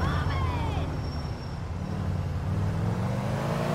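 A car driven in GTA 4 gives a steady, loud engine rumble with road noise throughout, and a brief rising whine early on.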